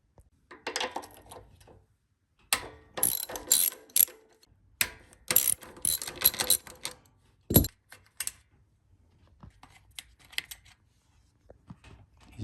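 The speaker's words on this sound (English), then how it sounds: "now we're just going to take that 10 mil socket and pop off 1, 2" A ratchet with a 10 mm socket works nuts loose on a CT200U EX motorbike's carburetor area, giving rapid clicking bursts in several runs with pauses, a sharp metallic clink, and light rattling close up.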